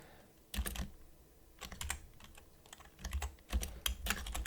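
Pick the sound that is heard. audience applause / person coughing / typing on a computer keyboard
typing on a computer keyboard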